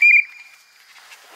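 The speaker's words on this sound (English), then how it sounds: "I brought my whistle." A single sharp, shrill whistle blast at a campsite, loud at the start and fading quickly into faint background noise.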